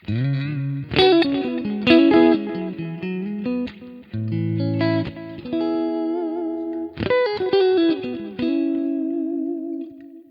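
Electric guitar through a clean Kemper profile of a '65 Twin Reverb amp plays chords and single notes in phrases, ringing out with sustain and some reverb, with short pauses between.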